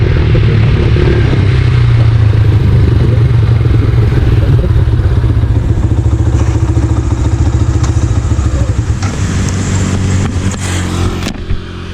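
A motorcycle engine labours loudly up a hill, droning steadily at close range with a rough clattering undertone, then its pitch shifts and it eases near the end.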